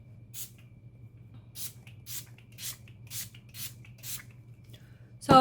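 A hand-pumped spray bottle puffs out about nine short hissing sprays in an uneven rhythm, close and fairly quiet over a low background hum, ending in a sudden louder clatter.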